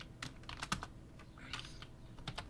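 Fast typing on a computer keyboard, a run of clustered key clicks with short pauses, close and fairly quiet against a faint room hum, no talking.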